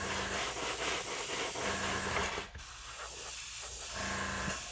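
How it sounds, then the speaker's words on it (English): An airbrush hose hangs down and rubs against paper during a scale model build, giving a steady hissing, scraping rub that runs through most of the stretch, with a short dip near the middle before it resumes. "That rubbing sound you hear is the hose of the airbrush rubbing on this paper here."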